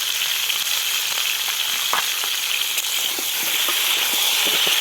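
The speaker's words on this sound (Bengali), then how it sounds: "ভালো করে লাল করে ভেজে নেব।" Ingredients for aloo dum biryani fry in a pan with a loud, dense, continuous hiss and sizzle. Faint sporadic ticks and scrapes sit beneath it, and no talk is heard.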